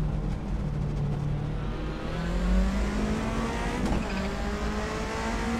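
A race car in a VR sim racing game, engine droning and rising steadily with a continuous tire scrub as it slides after the brakes lock up, close and alone.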